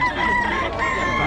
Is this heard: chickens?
yes